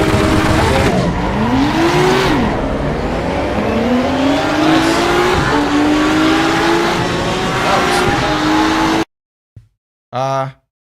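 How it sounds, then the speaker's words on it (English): Race cars in Assetto Corsa EVO roar loudly, engines revving and shifting up with rising and falling whine, tires briefly squealing, then the sound cuts abruptly and a voice speaks. "The cars are loud."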